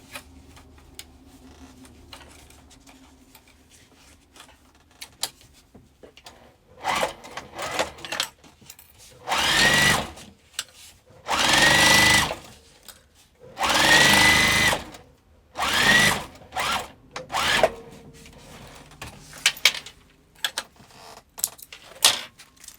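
A sewing machine stitches a fabric crossbody bag in several rapid bursts of whirring, separated by pauses and small handling clicks.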